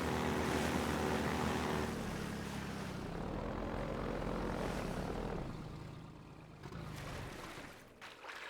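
Helicopter in the video game Half-Life 2, a loud sustained rotor and engine roar that drops somewhat after the midpoint, with no talking.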